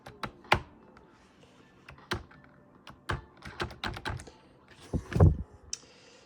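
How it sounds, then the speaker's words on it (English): Sharp clicks and taps of keys struck on a computer keyboard, including an Alt and P combination pressed on a ThinkCentre desktop, scattered irregularly with a heavier cluster of thuds near the end, close and fairly quiet. "Now I'm gonna do Alt and P."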